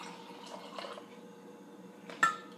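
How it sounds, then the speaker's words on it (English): Boiling water is poured briefly to rinse tea leaves, soft trickling and dripping with light glass and ceramic clinks, ending in a sharp clink of a vessel set down, close and quiet. "And then very quickly we pour this water into here."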